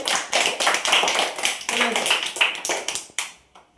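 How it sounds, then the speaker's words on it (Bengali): Schoolchildren in a Bengali classroom clap together in a dense, steady burst of applause lasting several seconds, with voices mixed in and the clapping fading toward the end. "হাততালি মারো সবাই"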